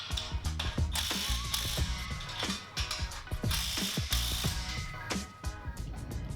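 A ratchet wrench cranks in quick, uneven bursts of clicks while tightening the bolts on the brackets of a Fitness Reality 810XLT home-gym squat rack, heard close and alone with no talking.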